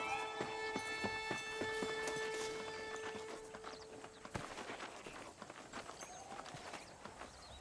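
Horse hooves clip-clop at a steady gait while riding in Red Dead Redemption, rhythmic close thuds under a sustained tonal music note that fades midway.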